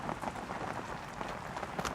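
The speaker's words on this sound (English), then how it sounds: "You probably hear the rain in the background." Steady rain falls outdoors beside a Pit Barrel Cooker, a continuous soft hiss of drops on surfaces at moderate, even loudness with no talking.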